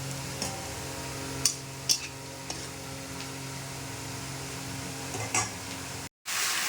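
Marinated meat sautéing with bay leaves in a pan for a spicy meat dish, giving a steady low sizzle with a few soft clinks and stirring taps, with no talking.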